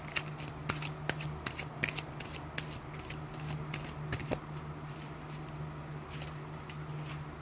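Victoria Francis oracle cards being shuffled by hand, a steady run of soft riffling and flicking close by, quiet and alone with no talking.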